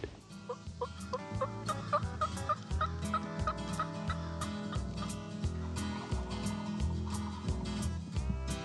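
Wild turkeys gobble repeatedly at a distance, rapid rattling calls rising and falling, with other fowl clucking faintly amid the quiet outdoor air.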